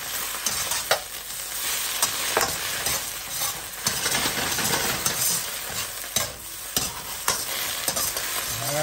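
An egg fries in a pan while being stirred, with a steady close sizzle overlaid by repeated scraping strokes and clicks of a utensil against the pan.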